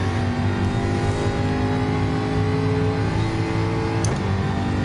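Porsche race cars lapping in the racing game Gran Turismo 7, a steady continuous engine drone held at a constant level throughout with no talk.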